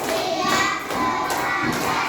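A class of students claps in unison during a counting hand-clapping game, giving several loud, evenly spaced bursts of group claps mixed with a little youthful shouting from the room.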